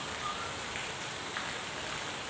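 Steady rain falling outdoors in a village or town setting, a continuous even hiss of drops with no pauses and no voices.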